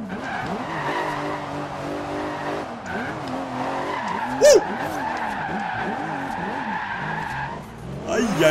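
Car tires squeal as a McLaren P1 drifts through a corner in the racing game Forza Horizon 2, a sustained screech over engine drone with excited voices talking throughout.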